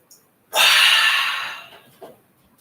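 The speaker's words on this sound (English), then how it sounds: "We're going to do a hua sound as we breathe out, and imagine clearing the eyes" A single long, breathy "hua" exhale during a qigong breathing exercise, sudden and strong then tapering over about a second, close to the mic, followed by a faint breath.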